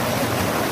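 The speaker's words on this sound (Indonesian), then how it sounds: "Air mengalir dengan derasnya" Spring water from a source on Mount Ciremai rushes swiftly in a steady, loud, broadband wash of flowing water, close by and without voices.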